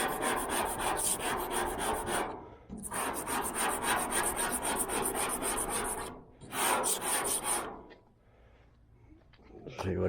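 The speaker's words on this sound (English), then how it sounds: "Let's use my scraper here." A metal scraper rasps over the rusty body panel of a 1978 Chevrolet Nova V8 hot rod after phosphoric acid treatment. The scraping comes in long repeated strokes with brief pauses between them, close and fairly loud.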